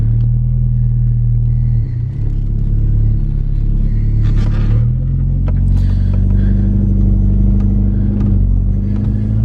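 A high-mileage 2008 VW R32 with a V6, AWD and six-speed manual pulls away on a drive, a loud close engine rumble rising and falling through gear changes with road noise.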